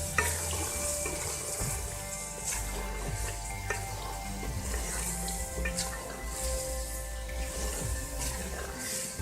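Black pepper and garam masala being stirred into aloo gobi gosht, a Pakistani potato, cauliflower and meat curry, frying in oil; a steady close sizzle runs throughout with scraping stir strokes and faint tonal hum beneath.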